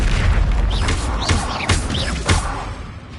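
Confringo fire-blast spell explosions cast in Hogwarts Legacy on PS5, a string of four booming bursts about half a second apart over a dense, steady bed of game noise.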